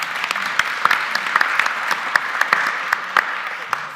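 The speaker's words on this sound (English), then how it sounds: "We're going to clap all our speakers." Audience applause for the speakers at a community engagement event, a full continuous wash of many hands clapping with scattered sharper claps standing out, fairly close and sustained.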